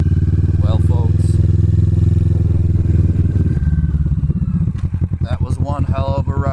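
A Kawasaki Vulcan S 650 Cafe ABS motorcycle being ridden: a loud, steady engine drone up close that eases off midway into a rougher, pulsing chug as the bike slows.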